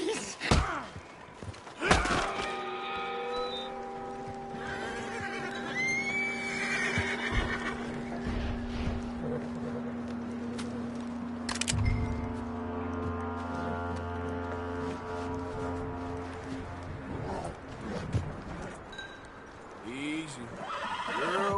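A horse in Red Dead Redemption 2 whinnies loudly near the start, with hoof clops and thuds following; people talk intermittently over the scene.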